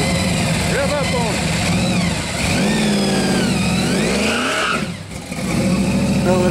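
Hot rod car engine revving at a street-side classic car gathering, the engine note rising and falling close by under loud, continuous talk from people nearby.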